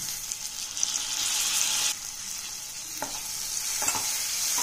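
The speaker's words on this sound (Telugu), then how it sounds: "తాలింపులో టమాటా ముక్కలన్నీ కలిసేటట్టు కలుపుకోవాలి" Tomato pieces frying in a hot tempering for okra curry, a bright continuous sizzle that briefly drops and resumes, with a few soft knocks of stirring near the end, close and without speech.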